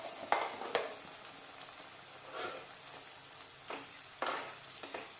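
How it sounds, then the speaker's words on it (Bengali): Mashed pointed gourd with ginger paste sizzling in a pan, a quiet steady fry broken by several sharp scraping stirs of a spoon against the pan. "এবার অনেকক্ষণ ধরে এটা কষতে থাকতে হবে, নাড়াতে থাকতে হবে"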